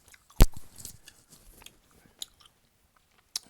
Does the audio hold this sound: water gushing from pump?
no